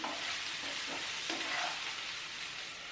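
Vegetable curry sizzling and frying in a pan on a home stove, a steady close hiss with faint stirring scrapes throughout, no talking.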